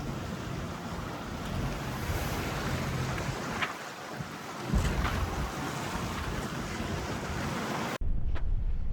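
A sailboat with one sail up runs across a choppy sea of roughly four-foot waves and whitecaps, with steady rushing water and heavy wind buffeting the microphone throughout, then a brief cut to a similar windy roar.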